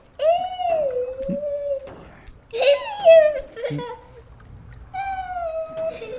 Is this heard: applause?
no